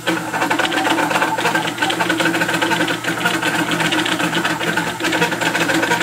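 A leadscrew-driven 3D printer runs continuously, its stepper motors whirring and buzzing in a dense, steady mechanical drone with rapid rhythmic fluctuations, close and fairly loud.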